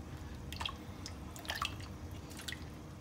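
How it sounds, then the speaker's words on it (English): Thick tapioca starch batter is stirred in a hot pan, making soft, wet squelching and sticky dripping sounds at close range in irregular pulses. "I have started to feel more difficult to stir"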